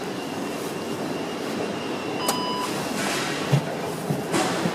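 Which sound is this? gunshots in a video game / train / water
train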